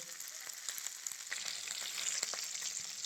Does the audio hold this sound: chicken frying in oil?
yes